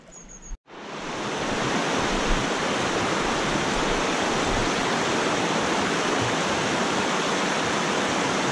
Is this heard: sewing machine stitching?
no